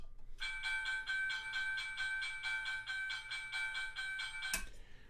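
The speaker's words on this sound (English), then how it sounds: "What's the railroad crossing sound like?" A scale-model railroad crossing signal rings a rapid, steady electronic bell tone, evenly pulsed for several seconds, loud and close, then cuts off abruptly with a click.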